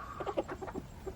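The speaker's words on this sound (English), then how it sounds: "That rooster. He thinks he found something good" A rooster clucks in a quick run of short, close, soft calls, each a brief burst, with no other sound over it.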